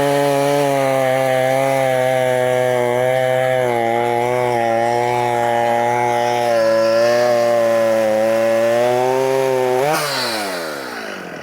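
A 56cc clamshell Stihl MS chainsaw running loud and close at high revs under a steady strained drone while cutting wood, pitch wavering slightly, then dropping off near the end; no talking.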